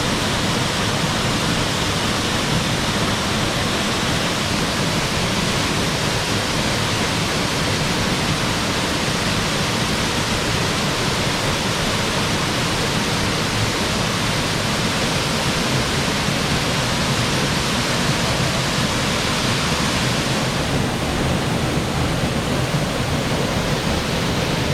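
Dual Waterfall at Dewasanzan in Yamagata, a sacred mountain pilgrimage site, roars as a steady, loud, broadband rush of falling water with no voices and no break.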